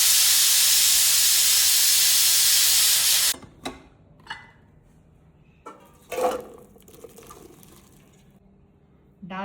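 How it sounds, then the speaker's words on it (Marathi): A pressure cooker with dal and turmeric vents steam in a loud, steady hiss for about three seconds, then cuts off, leaving a quiet kitchen with a few short bursts and knocks. "माझ्या कुकरमध्ये 4 शिट्ट्या दिल्या की डाळ छान शिजते।"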